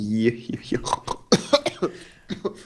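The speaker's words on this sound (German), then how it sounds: "ich glaube, ich krieg hier Husten" A person coughs several times in short bursts mixed with throat clearing, close and loud, amid talking in German.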